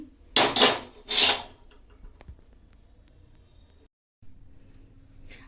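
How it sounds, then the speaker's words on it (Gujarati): A metal tawa griddle is handled for cooking methi thepla, with two loud scraping clatters close by early on, then faint ticks and a low room hum. "હવે આપણે બનાવીશું થેપલા તો એના માટે હું અહીંયા લઈ લઉં છું તવી"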